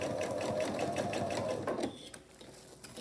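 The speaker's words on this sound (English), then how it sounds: "I'll take it to the machine. I'll sew all along the top, my lining to my outer fabric with a 1/4 inch presser foot this time." A sewing machine with a 1/4 inch presser foot stitches a lining to outer fabric for a wine or cocktail cozy, running in a steady rapid whir for under two seconds, then stopping, followed by quiet handling sounds.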